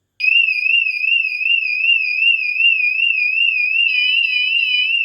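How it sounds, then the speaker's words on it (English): A Vanolarm Lite van alarm siren, set off by a magnetic door sensor, starts abruptly and holds a loud, piercing warbling tone that keeps cycling at close range until the end. "as if the door is opening where the siren sensor is."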